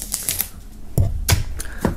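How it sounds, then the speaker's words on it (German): Crinkling and tearing of plastic film pulled off a red-orange box, a few sharp close crackles and rustles in quick bursts. "Wir werden die Box mal aus der Folie holen"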